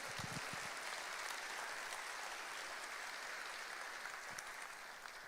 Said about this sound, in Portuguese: Obrigado pela palma, irmão